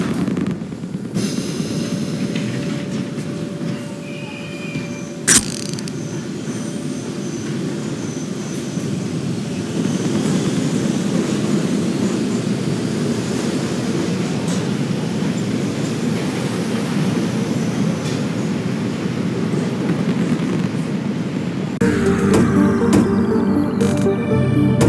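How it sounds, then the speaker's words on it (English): A train running on rails in the video game Ion Fury Aftershock, a continuous loud rumbling roar that holds for the whole stretch, with one brief sharp clank early on and a change in tone near the end. "This crazy train's about to go off the rails."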